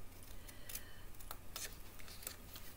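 Scissors snip through paper card along a score line, a series of short crisp cuts close by in a quiet room.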